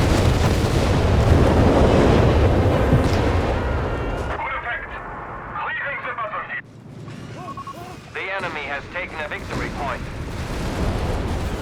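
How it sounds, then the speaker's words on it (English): Incendiary bombardment runs in the Company of Heroes 3 video game, a loud rumbling barrage of crashing blasts that fades and returns in bursts with a commentator talking over it. "And there go incendiary bombardment runs as well."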